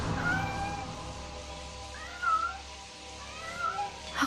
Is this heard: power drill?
no